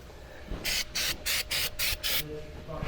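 Aerosol rubber undercoating sprayed onto a Ford Bronco axle in a workshop, six or seven loud hissing bursts in quick rhythmic succession with brief pauses between them.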